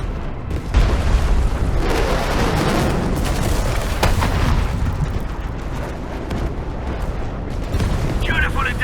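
Heavy booming artillery strike from the UWST in the video game Arknights Endfield, a dense rumbling barrage of blasts with rolling low-end impacts sustained throughout, with voices and game sounds mixed in.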